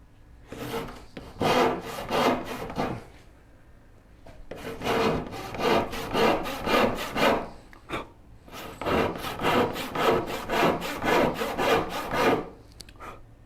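A hand saw cuts through wood for a Shaker Enfield cupboard, in three bursts of rapid, rhythmic back-and-forth strokes, close and fairly loud, with brief pauses between runs and no talking.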